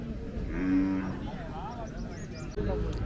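Cattle low and moo at a busy village cattle market, a drawn-out bovine call rising over a noisy crowd with people talking throughout.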